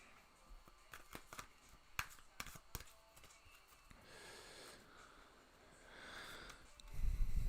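Tarot cards shuffled by hand during a live reading, a run of sharp riffling snaps and soft card slides, close and fairly quiet, with no talk over it.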